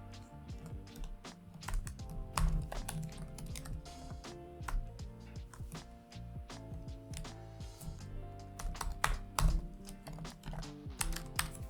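Rapid, uneven keystrokes on a computer keyboard as a password is typed, close and fairly clear, continuous bursts of clicks with occasional heavier key presses and no talking.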